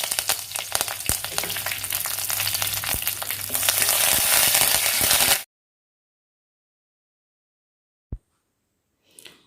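Deseeded dried red chillies and curry leaves crackle and fry in hot oil for an anchovy thoran, a loud, close, continuous sizzle lasting about five seconds before cutting to silence, broken only by a brief click and a faint rustle.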